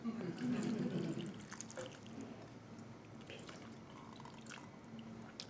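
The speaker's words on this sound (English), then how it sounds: "Then I want to put a cup of water in there," A cup of plain water being poured into a cooking pot, a short splashing pour up front that fades into quieter liquid sounds as a person talks.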